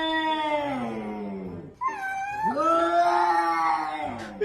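A cat meows in two long, drawn-out wailing calls, close and loud, the second rising and falling with a plaintive caterwauling tone.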